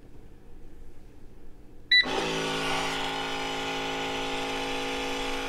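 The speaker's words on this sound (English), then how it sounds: "all we have to do is press the same button that we used to wash the nut milk. machine." A Milky Plant nut milk machine beeps at a button press, then starts a loud, steady motorized whir that keeps running unbroken, close up with no talk.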